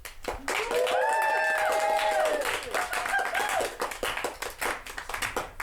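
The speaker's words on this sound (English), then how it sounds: "we're going to have to keep that applause going" An improv comedy audience claps steadily as a new player is welcomed to the stage, with whoops and cheering voices rising over the dense applause.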